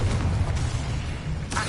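Confringo explosion spell cast in Hogwarts Legacy, a continuous heavy boom with rumbling low-end burst that fills the short moment, followed by a brighter flare at the end.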